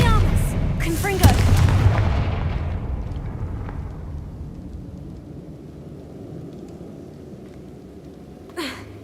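Confringo blasting spells in the video game Hogwarts Legacy: a loud booming explosion with a rumbling tail that fades over several seconds, then a second sharper blast near the end.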